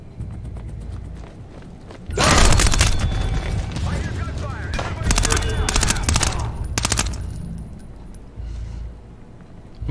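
Bursts of gunfire in the stealth shooter Splinter Cell Blacklist, rapid loud volleys with sharp repeated shots clustered through the middle, over game ambience while someone talks.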